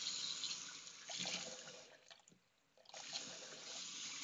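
Medium-hot water running from a tap, a soft steady hiss and splash that dips briefly as the flow is interrupted, then resumes, close but quiet.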